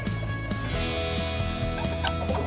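Light Sussex chickens cluck softly in a backyard flock, low murmuring clucks repeating amid a dense, busy background of other sounds, close and continuous.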